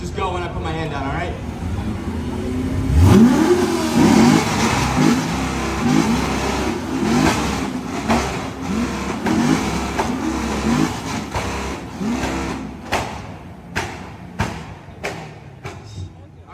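Several cars, among them a C7 Corvette, revving their exhausts in an informal exhaust competition, repeated loud throttle blips and roars one after another, close by, with people talking and shouting over them.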